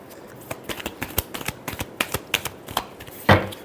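A deck of tarot cards being shuffled nearby, a series of sharp papery riffles and flicks in an uneven rhythm, ending in a louder, longer riffle, with no talking.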